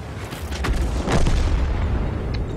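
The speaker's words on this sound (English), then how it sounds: "our artillery is doing a good job of covering us" Artillery fire in the tank combat game World of Tanks: a loud, deep boom lands near the middle, preceded by smaller thuds and trailed by a rumbling low-end battle din that continues to the end.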